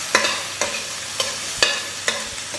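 Garlic frying and turning golden in a pan, with a soft steady sizzle broken by about six regular scraping strokes of stirring.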